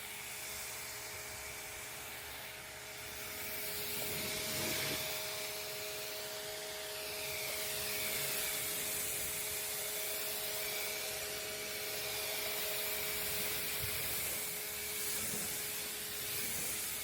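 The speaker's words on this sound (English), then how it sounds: "Making sure I flood that surface, get all the soap and iron remover off the vehicle." Water rinsing soap and iron remover off a large car hood, a steady broad spray hiss running throughout with slight surges, close and continuous, no talking.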